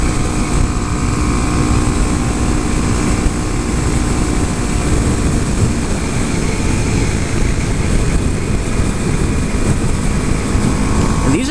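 A 2014 Honda Grom motorcycle runs flat out through high-speed corners, its small engine a steady, loud drone mixed with heavy wind rush throughout, with no letup.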